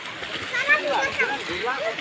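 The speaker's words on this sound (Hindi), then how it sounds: "ये नदी का पानी से देखिए बाइक पर पानी फेंक कर धो रहे हैं" River water is thrown onto a motorbike to wash it near a bridge, with repeated splashes and sloshes under close, continuous talking.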